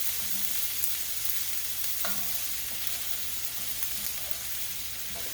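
Onions sauteing in about three tablespoons of butter for a green bean casserole, a steady broadband sizzle with occasional soft pops and light utensil clinks, even and continuous throughout, no voices.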